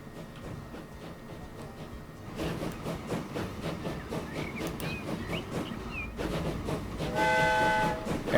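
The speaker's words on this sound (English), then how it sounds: "Our first train is in action. She's heading out empty." A freight train pulling out of a station in the video game Transport Fever 2, with rumbling engine and rolling rail clatter building in loudness and a sustained horn tone near the end, with no talk.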